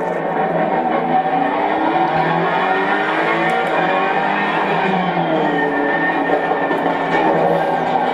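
Race car engine in Assetto Corsa Competizione on the Zolder circuit, a steady, loud drone of revs rising and falling through corners, continuous for the whole stretch with no talk.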